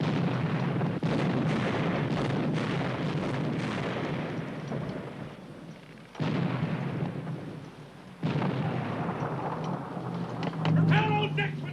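Cannon fire from a ship's guns during a naval battle, deep rumbling booms rolling under a continuous dense din, with a couple of abrupt louder onsets.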